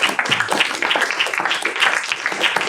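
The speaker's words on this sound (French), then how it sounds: "Applaudissements bien sûr." Steady applause from a crowd, dense overlapping claps filling the whole stretch at an even, moderate loudness.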